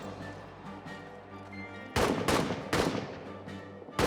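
Gunfire crackles in a World War I trench game as troops are pinned down: a few sharp, dense bursts break in loudly after a quieter stretch of background noise.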